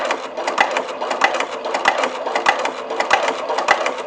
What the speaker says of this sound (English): lower my presser foot so I can stitch up the other side, and continue around.